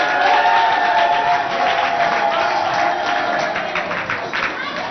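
A studio audience at a Gabonese school quiz show applauds and cheers as chefs from two schools are welcomed, a dense steady wash of clapping and crowd noise up close that slowly eases toward the end.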